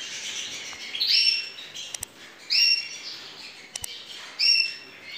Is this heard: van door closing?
no